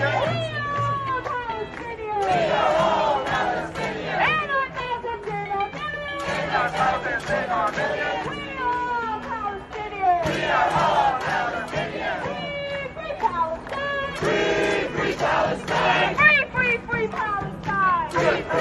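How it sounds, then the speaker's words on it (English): A crowd at a UPenn protest chants the slogan "Globalize the Intifada" after a leader, with loud, high-pitched voices repeating the same rhythmic phrase in regular cycles that rise and fall close by. "leading a crowd chanting "Globalize the Intifada""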